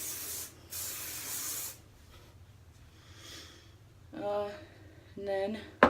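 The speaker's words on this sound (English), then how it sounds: "Spray it while it's still upside down." Hair spray hisses in two bursts onto curled hair held upside down, a close, steady aerosol spray, followed by soft rustling and brief speech.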